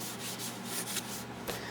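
Steady rhythmic sanding, a close, dry scratchy rubbing repeated in quick back-and-forth strokes with no talking.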